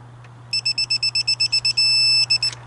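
A digital torque wrench set to 22 foot-pounds while tightening a fuel injector on a 2018 Chevy Silverado 1500 gives a rapid series of about a dozen sharp electronic beeps, then one sustained tone and two final beeps, close and clear.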